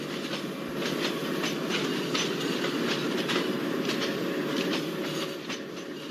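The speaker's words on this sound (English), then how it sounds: "we are able to hear the honking sound of some train" An Indian Garib Rath express train rolls past close by, steady rumble with rhythmic clickety-clack of wheels over rail joints, loud and continuous throughout.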